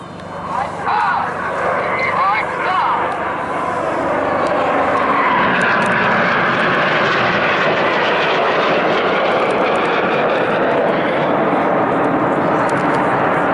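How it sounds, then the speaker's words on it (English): Red Arrows display jets roar overhead at a seaside air festival, a loud sustained jet rumble that swells and holds steady throughout while a commentator talks over it. "7 aircraft pulling to the vertical, the synchro pair staying low in the centenary split."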